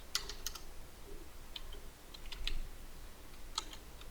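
Keystrokes on a computer keyboard while writing JavaScript code, a few quick light clicks at the start and scattered taps later, close and quiet over a low room hum.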